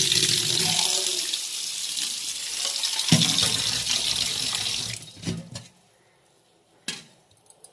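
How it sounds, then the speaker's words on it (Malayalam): Running water from a tap splashes over a panikoorka leaf being rinsed in a sink, a steady close hiss that stops near the end, leaving a few drips and brief splashes. "നന്നായിട്ട് വാഷ് ചെയ്ത് ഇതിനകത്ത് ചലന്തി വലയോ എന്തെങ്കിലും ഉണ്ടോ എന്ന് നോക്കി നമ്മൾ നന്നായിട്ട് വാഷ് ചെയ്തെടുക്കും"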